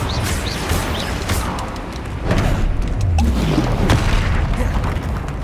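Spell explosions erupt in combat in the Hogwarts Legacy video game: loud, heavy booms and crashing blasts follow one another closely, with a denser barrage of impacts in the second half.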